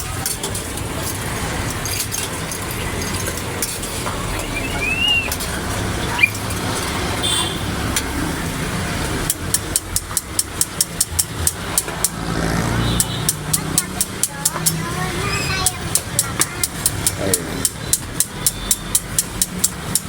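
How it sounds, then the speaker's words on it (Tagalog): Roadside traffic at a street food stall, a steady rumble of passing vehicles with a rapid series of sharp ticking clicks in the second half, under intermittent talk. "Tabing kalsada lang to mga kababayan"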